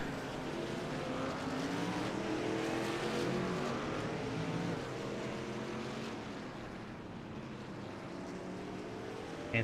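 Race truck engines in a sim racing game at COTA, a continuous loud motor drone with rising and falling pitch as several trucks run together.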